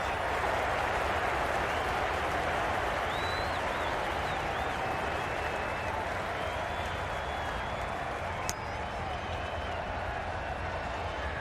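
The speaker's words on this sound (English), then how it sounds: "The crowd are really getting quite raucous." Rowdy crowd in the Cricket 22 video game keeps up a steady, dense roar of applause and cheering throughout, with scattered whistles and one brief sharp clap standing out near the end.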